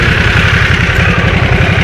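A Harley-Davidson Nightster motorcycle engine idles steadily up close, with a loud, even low rumble pulsing in a quick regular rhythm and no voices.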